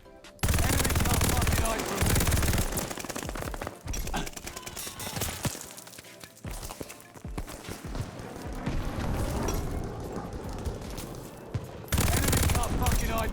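Rapid bursts of UGM-8 light machine gun fire in the shooter Vanguard crackle loudly through most of the stretch, with brief lulls around the middle before sustained automatic firing resumes.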